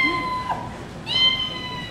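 A small kitten gives two thin, high meows about a second apart, fairly close and clear over a quiet background.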